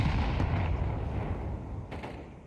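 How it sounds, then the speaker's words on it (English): A grenade detonates in a Counter-Strike match, heard as a heavy, booming low rumble that already fills the start and slowly decays over a couple of seconds with a faint later crack, no voices. "Another very decent grenade here."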